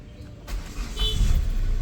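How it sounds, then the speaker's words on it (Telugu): A Hyundai Verna diesel car starts up: a short crank bursts in, then the engine catches into a low, rising rumble, heard close by. "ఇంజన్ స్టార్ట్ చేస్తాను."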